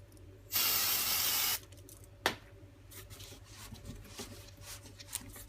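A single burst from a spray can coats a popcorn ballerina cake, a loud hiss lasting about a second. A sharp click follows, then quiet handling noises and small taps.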